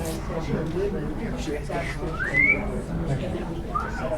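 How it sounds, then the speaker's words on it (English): A whistle blown to call a training room to order, heard as a few short rising whistle tones over ongoing crowd chatter and talking voices in a busy indoor room. "Need the whistle again."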